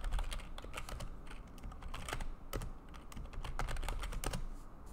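Help commands being typed into Discord on a computer keyboard, a steady run of quick, crisp key clicks with occasional louder strokes, close and alone.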